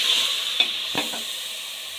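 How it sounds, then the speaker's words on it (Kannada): Soaked soya chunks sizzle in hot oil on a medium flame, a steady close frying hiss broken by a few soft scraping stirs of a spoon through the pan, with no voices. "15 ನಿಮಿಷ ನೆನೆಸಿರೋಂಥ ಸೋಯಾಬೀನ್ನ ಎಣ್ಣೆ ಒಳಗೆ ಹಾಕ್ಕೊಳ್ಳಿ"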